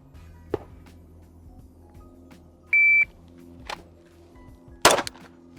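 A single sharp shot-timer beep sounds in a quiet room during a concealed-carry draw drill, followed moments later by a loud handgun shot, with a few faint clicks and knocks around them.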